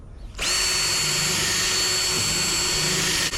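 A power drill with a regular bit boring out spot welds in the dash panel of a 1967-72 Chevy truck, whining up sharply and holding a loud, steady high-pitched grind to the end.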